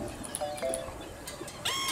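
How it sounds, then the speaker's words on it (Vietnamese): Birds chirp and call in the I Am Fish video game, a mix of short pigeon-like coos and bright whistled notes over steady ambient game noise, with a longer trilling call near the end. "Chim đầy đường"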